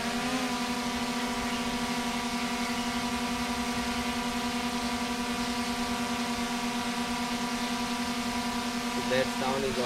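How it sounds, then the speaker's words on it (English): A DJI Mini 3 Pro drone gives a steady, moderately loud whine from its motors and obstacle avoidance sensor, holding an even tone throughout with a faint background voice. "That sound is obstacle avoidance sensor."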